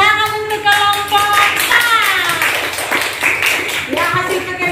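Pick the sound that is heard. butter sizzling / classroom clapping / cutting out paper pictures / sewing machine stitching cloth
classroom clapping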